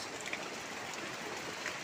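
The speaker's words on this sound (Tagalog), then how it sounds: "grabe ang lakas ng ulan, bumiglang bumuhos" Heavy rain pours during a typhoon in a steady, dense hiss with faint scattered patters, heard alone at moderate distance and fairly quiet.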